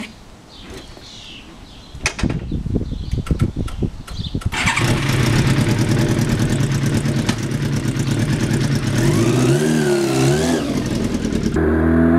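A 1991 Yamaha FZR 1000 motorcycle is kicked over with a few cranking bursts, then catches and settles into a loud, steady idle, with a couple of throttle blips and revs rising near the end.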